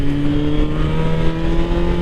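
A truck engine revs loudly and close by, a steady droning rumble with strong low tones that holds throughout without a pause.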